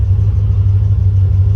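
A 1980s Chevrolet Corvette engine idles with a steady, deep rumble, loud and close, with no talk over it.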